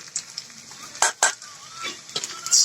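Data leaf (amaranth stem greens) pakoras frying in a wok, a steady close sizzle of hot oil broken by a few sharp spattering bursts and stirring clinks, with no talking.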